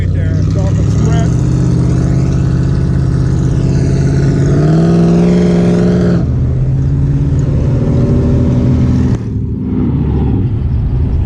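Dolphin Sprint car engine at the 2022 Cruisin' Hines car show in Hines Park, Detroit, revving loud and close, pitch climbing and falling in sustained surges, with people talking throughout.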